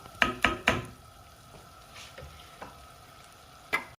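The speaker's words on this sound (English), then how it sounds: "we're gonna get this rice nice and golden brown, toasty. Let that cook." Rice toasts in a pan for Spanish rice with a faint, soft sizzle, punctuated by a few sharp spoon knocks and scrapes at the start and one more near the end, no voices.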